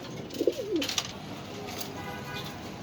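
Soft cooing of racing pigeons, a brief throaty warble near the start, faint against a quiet airy background.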